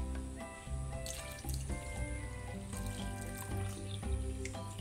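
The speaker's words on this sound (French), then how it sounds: "Je vais rajouter un peu d'eau parce que" Water running into a saucepan from a kitchen tap, a steady continuous pour heard close and alone throughout.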